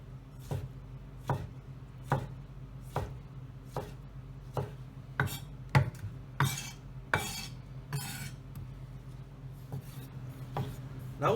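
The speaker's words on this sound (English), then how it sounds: "slice it through the middle, and we're going to do the same thing and very finely chop the tomato" A knife chops a sliced tomato finely on a board, sharp regular taps about every half second to second, close and clear with faint kitchen hum beneath.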